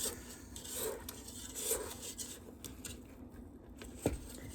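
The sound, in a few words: scraping cowboy cookie dough off the mixing bowl bottom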